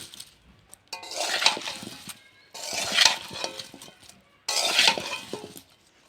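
Three separate bouts of olives being mashed in a pan for Assamese jolphai pickle, each a scraping, clinking clatter of utensil on metal lasting about a second or more, with quieter pauses between.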